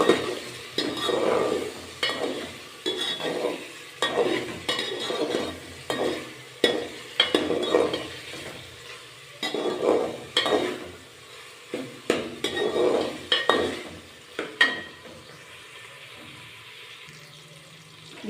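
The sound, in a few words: stirring ginger garlic paste mixture in a pan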